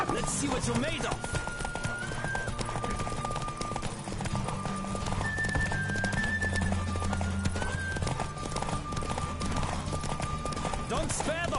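A horse gallops hard through a race in The Witcher 3 on PS4, its quick, unbroken clip-clop rhythm loud and near, with a brief whinny early on and game music humming beneath.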